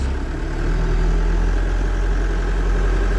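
An old truck engine idles with a steady low rumble and hum, close and loud, while gears are shifted with a push-button instead of a clutch.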